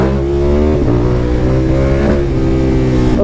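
A KTM 1290 Super Adventure motorcycle accelerates hard, its engine note rising through steady harmonic climbs with brief dips at two gear changes, loud and close throughout with no talk.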